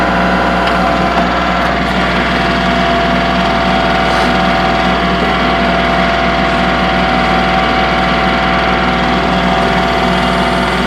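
A 2023 Kubota L3902HST tractor with a BH77 backhoe attachment runs steadily while its outriggers are lowered, a constant close engine drone with a faint whine and no talk.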